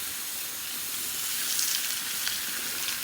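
Honey and 57 sauce brushed onto chicken on an Old Smokey grill, giving a steady soft sizzle and hiss that swells slightly midway, with no voices over it.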